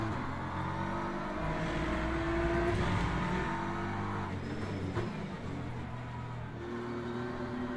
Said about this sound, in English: This Ferrari's racing with the Beamer in front.